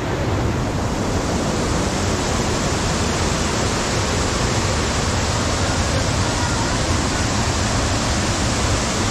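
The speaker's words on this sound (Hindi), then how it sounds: "और झरना भी" A waterfall at Tsongmo Lake in Sikkim gives off a steady, dense rushing roar that stays constant and fairly loud throughout, with no pauses or voices.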